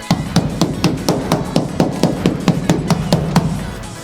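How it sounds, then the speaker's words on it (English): A soft face hammer gives a run of light, evenly spaced taps, roughly fifteen dull knocks at a brisk steady pace, while loosening a part during a Hyundai Excel build, with no talking. "It's just a soft face hammer."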